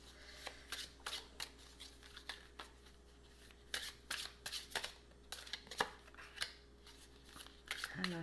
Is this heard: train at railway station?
no